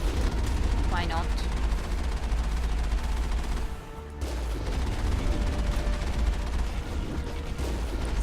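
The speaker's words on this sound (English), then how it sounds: "Something else is shooting at us too, though, than just that Colossus" Continuous rumbling gunfire and mechanical battle noise fill a fight in Mass Effect against a Colossus, with a brief lull midway and a voice talking over the din.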